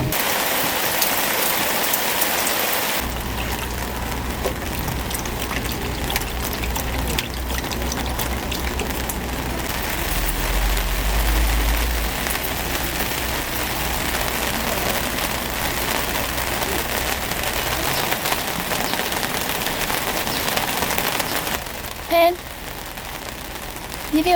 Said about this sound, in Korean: 비가 막 엄청 많이 내리는 건 아닌데 조금씩 보슬비처럼 내리고 있어요.